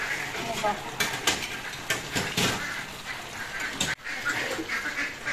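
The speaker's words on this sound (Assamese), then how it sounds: "হাঁহকেইটাৰ মাত টাক টাক টাককৈ থাকে" Ducks quack intermittently in short bursts amid clattering kitchen noises and stirring, with a person talking over them at moderate volume.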